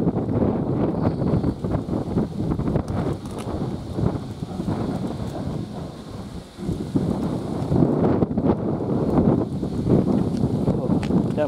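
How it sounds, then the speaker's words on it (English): Strong gusts batter the microphone with continuous low roaring buffets, rising and falling throughout, while people talk underneath at a railway junction. "Windy, isn't it?"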